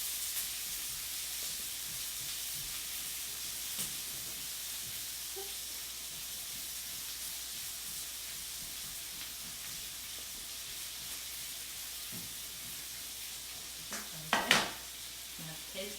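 Onions caramelize in hot bacon fat with a soft, steady sizzle and hiss, quiet and continuous, broken by a few faint stirring scrapes and a sharper clink of a utensil against the pan near the end.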